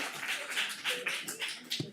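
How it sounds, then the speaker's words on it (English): A small audience at a Santa Monica city council meeting claps briefly, with a handful of quiet, uneven claps that fade out within two seconds. "Okay, for reals, no more clapping."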